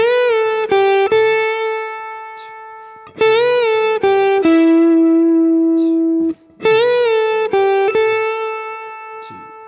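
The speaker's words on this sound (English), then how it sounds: "And that's it for the intro, which sounds like this." Clean electric guitar playing a song's intro lick, sustained melodic notes with bends and slides in three phrases, loud and alone with no talking.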